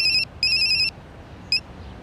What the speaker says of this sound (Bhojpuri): अरे फोन आइल बा, उठाई